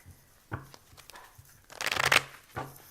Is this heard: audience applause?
no